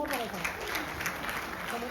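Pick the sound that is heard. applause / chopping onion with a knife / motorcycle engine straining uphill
applause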